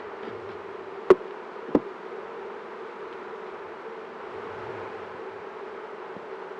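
Honey bees hum steadily throughout an open beehive inspection, a dense close buzz broken by two sharp knocks of frames or tools.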